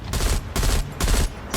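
Rapid bursts of automatic M16 rifle gunfire in Call of Duty Mobile, in three clusters, loud and close with sharp crackling reports.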